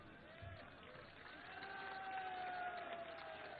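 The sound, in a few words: crowd applauding at a public rally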